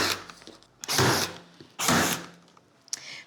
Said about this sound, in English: Now we're gonna flip the headboard over and staple the excess fabric back.